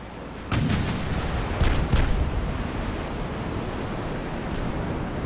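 Warship guns boom in a naval battle game set in 1890, a heavy low blast opening a dense rumbling wash of sea and cannon noise with a few further dull thuds, loud and continuous, no talking.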